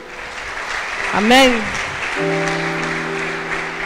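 A church congregation applauds in a broad wash of clapping, with a lone voice calling out over it and steady organ-like tones sustained beneath.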